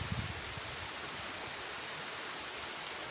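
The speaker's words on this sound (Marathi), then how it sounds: "चला पहा धबधबा कसा बुडतोय मस्त खाली पडत नाही तिला पाण्यामध्ये" A small waterfall pours into stream water, giving an unbroken broadband rush, slightly fuller at the very start, heard alone and up close.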